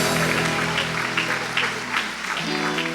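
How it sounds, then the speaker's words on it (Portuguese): Applause from a church congregation during a worship service, steady clapping over sustained music with organ or keyboard tones underneath. "E aplauda Jesus bem forte"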